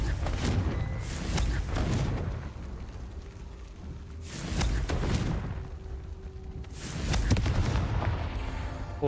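The Confringo fire spell in a Harry Potter video game sets off three loud, rumbling explosive blasts a few seconds apart, each swelling and fading into a low roar of game noise.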